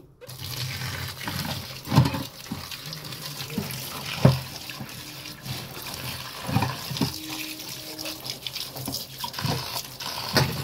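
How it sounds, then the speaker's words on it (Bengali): Leafy greens are washed under running water, a continuous tap-like splash and trickle with intermittent louder sloshes and handling noises as the leaves are moved about, close by and moderately loud. "ততক্ষণ আমি শাকটা ধুয়ে নিই।"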